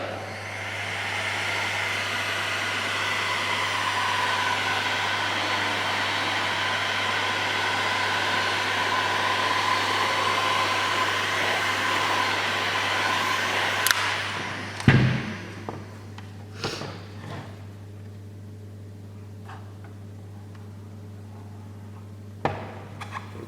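A heat gun blows a steady, loud hiss and whir while warming vinyl wrap over woodgrain trim in a Nissan Patrol Y62, running continuously for about fourteen seconds before cutting off, followed by a few scattered clicks and taps.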